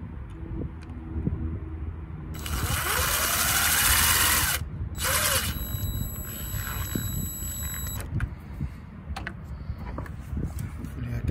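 A power drill drives wood screws into a winch plate on a Hard Rock steel bumper. There are two bursts of whining drilling, the first longer with a rising pitch and the second short, against quiet background noise.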